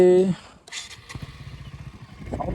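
A modified KTM Duke 200 BS6 motorcycle built as a fibreglass cafe racer, with a throbbing, pulsing engine idle close by. A brief voice speaks at the very start.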